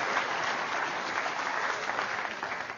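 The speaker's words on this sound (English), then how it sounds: "Let's give them a round of applause." Steady applause from an audience cheering mental math performers at a live show, a dense wash of clapping that holds at an even level for the whole stretch with no voices over it.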